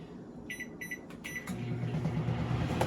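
A microwave oven heating a veggie burger gives a few quick beeps at the start, then settles into a steady low hum as it runs, close and fairly quiet.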